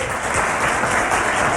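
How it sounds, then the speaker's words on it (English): A daytime TV studio audience claps steadily and loudly throughout, a dense wash of many hands with no pauses. "Why are they clapping?"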